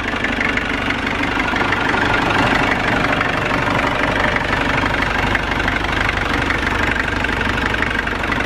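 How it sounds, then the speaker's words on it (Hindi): A 1988 Mahindra Jeep engine idles after an oil and oil filter service, a steady, loud, knocking diesel-like rumble running continuously without voices. "एक बार इंजन की आवाज़ सुननी है,"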